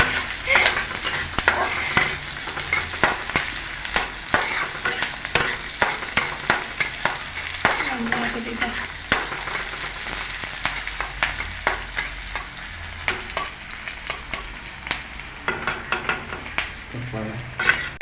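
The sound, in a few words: onions and green chillies frying and stirred in a wok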